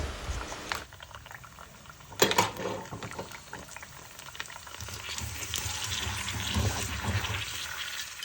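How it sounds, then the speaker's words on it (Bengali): Fuchka puris frying in hot oil, a continuous bubbling sizzle with a sharp burst of crackling early on and a steady, moderately loud fizz that thickens toward the end. "এখন ফুচকা ভাজা হচ্ছে"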